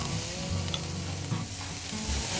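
A rib eye steak brushed with mojo sauce sizzles on a grill with a steady, crackling hiss and small pops, close and continuous with no talk.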